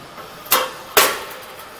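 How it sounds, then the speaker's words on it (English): A cable tray roll forming machine makes its cut as two quick, sharp hissing bursts about half a second apart, moderately loud over a quiet hum of machinery. "It's going to cut. You can hear it's very smooth."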